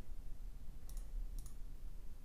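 Two crisp, close mouse clicks come about half a second apart while someone works in PowerPoint, over quiet room hiss.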